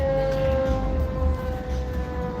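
A civil defense siren in Riverside, California wails steadily throughout, a loud sustained tone over low rumbling background noise.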